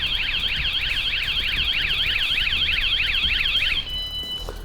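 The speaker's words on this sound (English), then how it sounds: "what you get this time is an extended version of the alarm blast" A Vanguardian camper van security alarm blares loud, continuous sweeping electronic whoops rising and falling in rapid repeated cycles for several seconds before cutting to a steadier tone.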